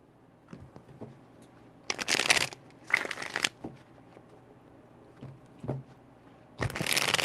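A deck of tarot cards is shuffled in three loud, crisp riffling bursts, with softer handling taps between them and no talking.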